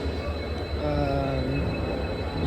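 A train rumbles through Hubli railway station with a low steady drone, metallic wheel squeals rising in the middle, loud and close.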